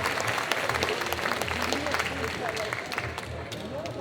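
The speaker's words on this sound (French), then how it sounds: "On les applaudit encore très très fort les filles." A crowd at a cosplay parade during a French game show convention claps steadily, dense applause mixed with crowd murmur and some voices.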